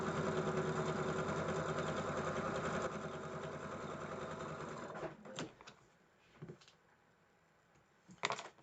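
A sewing machine stitches steadily along a long piece of fabric for about five seconds, a close, continuous mechanical whir, then stops, leaving a few quiet handling clicks and knocks.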